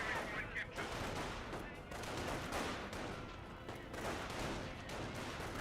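Dense gunfire rattles continuously around a rifle squad in the Company of Heroes World War II strategy game, with overlapping rifle and machine-gun bursts and someone speaking faintly under the fire.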